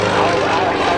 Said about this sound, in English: Shockwave Jet Truck at Airshows all over the country.